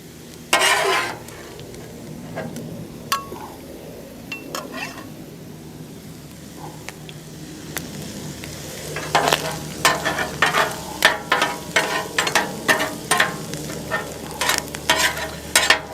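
Steak sizzling on a 28-inch Blackstone folding griddle, a steady hiss broken by scattered scraping and clacking bursts from a spatula, growing busier toward the end, with no talking.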